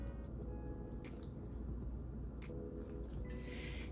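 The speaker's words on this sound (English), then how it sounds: "go in with a little bit of filtered water" Filtered water is poured into a jar of perlite for plant propagation, giving soft gurgles and trickling with a few sharp drips and clinks over a steady background rumble.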